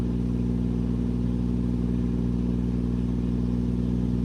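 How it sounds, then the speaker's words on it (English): The auxiliary power unit on a truck drones steadily and close by, a low, even engine hum with no changes in pitch or rhythm throughout. "The Green APU is actually rolling right now."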